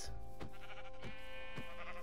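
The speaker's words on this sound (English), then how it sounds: "I found the last sheep that I needed." A sheep in the video game Minecraft bleats repeatedly in short wavering calls over a steady, loud game backdrop.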